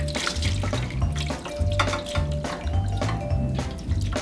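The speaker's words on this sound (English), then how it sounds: "pour water in the pan" Water from a tap splashes and gurgles into a baking pan, a steady close pour with small drips and clinks, no one speaking.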